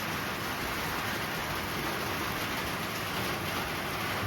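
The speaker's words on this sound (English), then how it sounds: "It's raining again." Steady rain falls early on a June morning in Montana, a constant, even wash of drops with no pauses and no voices.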